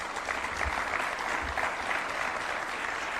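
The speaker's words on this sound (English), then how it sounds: "A round of applause for His Excellency one more time" An audience claps after a speech by the President at the launch of the Shirika plan for refugees and host communities, sustained even applause with a few louder claps and low thumps mixed in.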